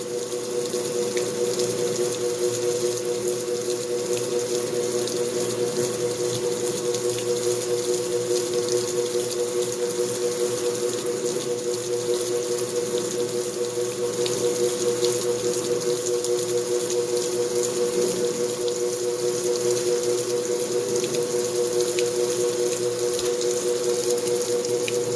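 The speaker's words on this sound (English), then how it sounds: "it surely is splashing water everywhere when it's doing the spray rinse" Steady spraying water from an overloaded GE belt-drive washing machine on spray rinse runs continuously with a constant mechanical hum beneath it, unchanging and fairly loud throughout.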